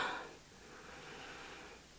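A single deep sniff through the nose at a perfume, breathy and close, drawn out over a couple of seconds with no talking.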